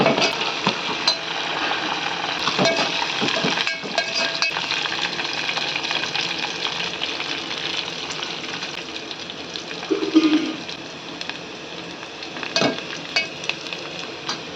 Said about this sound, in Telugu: ఇట్లా ఆనియన్ వేగిన కొంచెం కరివేపాకు వేసుకొని బాగా వేపాలి